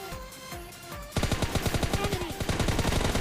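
Rapid bursts of automatic gunfire in the battle-royale video game PUBG Lite, loud and close, with a steady rhythmic volley of shots following a brief quieter stretch of game sound.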